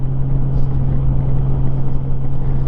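A 2002 Honda GL1800 Goldwing motorcycle accelerates with a steady, loud engine drone and a strong low hum under wind rush. The sound holds fairly constant throughout and no one speaks.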